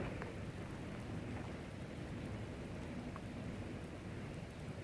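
Steady rain pours down continuously, a dense even hiss with a low rumble underneath, no voices.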